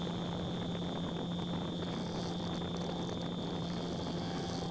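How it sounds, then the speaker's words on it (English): A walnut bowl about 9 inches tip to tip spins on a wood lathe, its protruding tips churning a steady, dense wind roar, with a constant high whine running underneath. "the tips of that were creating a lot of wind."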